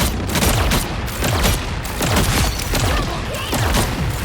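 Bombs exploding in the video game Marvel Rivals, a rapid series of booming blasts with rumbling low thuds and crackling debris, loud and continuous.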